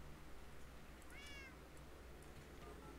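A cat gives one short, faint meow, soft and slightly distant against a low steady background hum.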